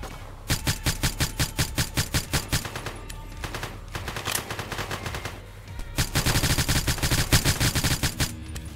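Rapid bursts of gunfire in a video game, a pistol among the shots, crack out in quick rhythmic volleys, loud and close, with short pauses between strings of shots and a denser barrage near the end.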